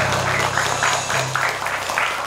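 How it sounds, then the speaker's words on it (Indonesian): A short burst of clapping from a small group, steady and fairly close, with no voices over it. "Kita harus tepuk tangan dulu."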